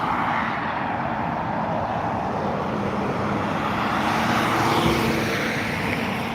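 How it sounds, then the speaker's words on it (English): An Airbus A320neo coming in to land at Dublin Airport, heard as a steady, loud broadband jet roar that swells slightly toward the end, with no talking. "A320neo landing in from Copenhagen"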